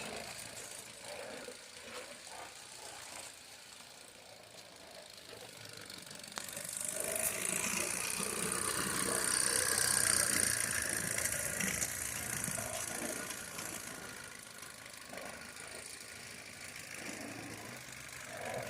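A live steam model tram runs smoothly with a soft mechanical chuffing and hiss, faint and steady, swelling a little midway before settling again.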